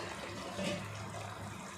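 Rice tipped into a simmering pot of biryani liquid with tomato and green chilli, a brief watery splash and sloshing over a steady bubbling broth, close and moderately loud.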